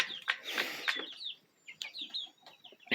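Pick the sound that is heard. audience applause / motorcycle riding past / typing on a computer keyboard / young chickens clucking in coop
young chickens clucking in coop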